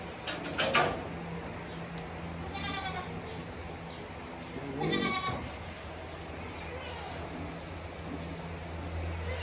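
Goats kept as breeding stock bleat twice in a quiet farm room, one brief cry early and a louder, wavering bleat midway, with a steady low hum underneath.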